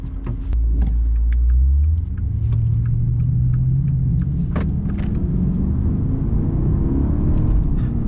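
A 2021 Maserati Ghibli Trofeo accelerating hard in sport mode, heard from inside the cabin as a deep engine note that climbs in pitch through a gear, then settles into a steady rumble, with small clicks and knocks over it.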